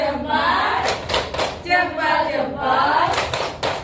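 Students in a class perform the "tepuk salut" clapping routine, a series of rhythmic group claps with chanted voices, close and fairly loud.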